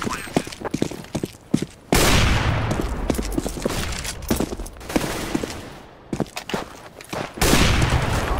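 Gunfire in Counter-Strike on the de_dust2 map: dense bursts of automatic fire and rapid shots, loud and close, with brief pauses between volleys and a continuous crackling wash in the middle.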